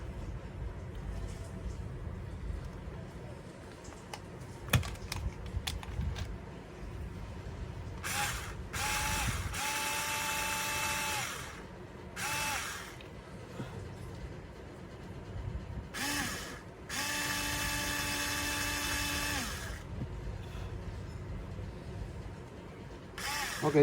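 Countersinking a hole in a DIY figure with a power tool, several bursts of steady whirring several seconds long with gaps between, heard close over a low background rumble.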